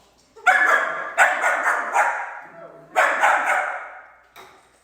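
A dog barks loudly in repeated bursts, a quick cluster of barks, a pause, then another cluster and a final bark.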